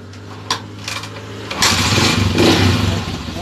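A TMX155 CDI motorcycle with an abnormally noisy engine idles close by, then revs up into a louder, rougher roar that holds steady.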